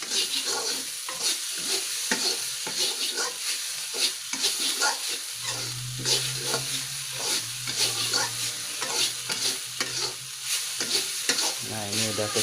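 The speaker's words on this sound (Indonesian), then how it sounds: "Lalu kita aduk hingga layu sama rata." Vegetables frying in a pan for risol filling, stirred until wilted: a loud, steady sizzle close by, broken by repeated scraping and clinking strokes of a spatula, with a low hum at times and no speech.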